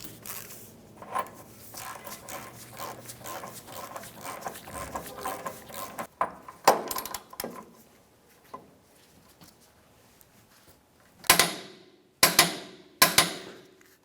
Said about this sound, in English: you're going to want to torque this to 259 foot-pounds.